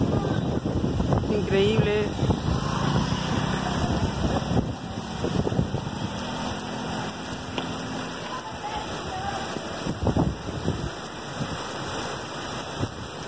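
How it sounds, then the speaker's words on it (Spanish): Rain driven by wind in the main town square of central Piura, a dense steady hiss of falling rain with gusty wind buffeting the microphone, while someone speaks over it throughout. "acaba de iniciar una lluvia en el centro de Piura con viento"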